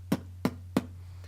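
Three beatboxed kick drums, vocal imitations of a kick drum, land as short punchy thumps at an even pace, close and clear, with a faint fourth hit at the end and a low hum underneath.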